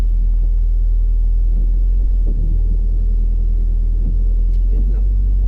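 A car engine idling low in first gear at about 1,200 rpm during a driving lesson, a steady deep drone that holds even throughout, with faint cabin sounds over it.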